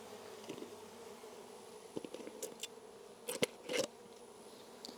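Honeybees from an opened hive buzz faintly and close by, a soft drone broken by a few brief louder passes and wing-flutter bursts, in a quiet setting without speech.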